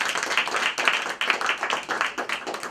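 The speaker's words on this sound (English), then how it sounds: "That's a nice round of applause." An audience gives a round of applause at an evening talk on the Frederick Law Olmsted legacy, dense hand clapping that swells and eases in uneven waves, loud and close, with no speech over it.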